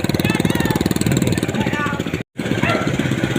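A motorcycle engine chugs with a steady pulsing rhythm while riding over a bumpy, potholed road with puddles. The sound stays close and loud, briefly cutting out for a moment before resuming.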